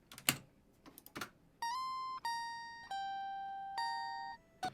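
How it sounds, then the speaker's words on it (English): Dry electric guitar lead with no amp simulation, pitched up an octave, playing a few sustained melodic notes with clear bright overtones after some brief clicks and taps at the start. "I then pitch it up an octave"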